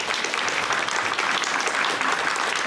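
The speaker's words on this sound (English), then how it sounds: "So another round of applause for our puppy raisers." Steady, dense applause from an audience at a guide dog graduation, honoring puppy raisers, runs without a break through the whole short stretch at an even, fairly loud level.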